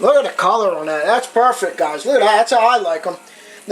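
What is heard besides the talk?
No distinct noise like a dog, phone or traffic.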